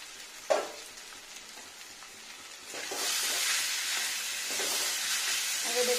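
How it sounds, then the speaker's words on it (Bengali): Dal is stirred as it fries in a pan in a home kitchen, a sharp knock at first, then a bright steady sizzling hiss swells up and continues close by, with no talking. "ডালটাকে নাড়া দিয়ে নিচ্ছি"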